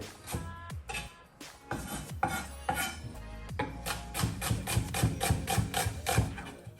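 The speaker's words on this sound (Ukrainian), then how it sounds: "Нарізаємо спочатку цибульку і далі переходимо до моркви і часнику." A knife chopping onion, carrot and garlic on a board, first uneven cuts and then a quick steady run of crisp knocks, close and clear with no voices.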